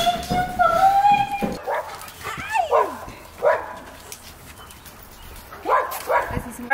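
Dogs left alone with a baby give a few sharp barks and then several high whimpers and whines, loud and close, with some human voice sounds mixed in.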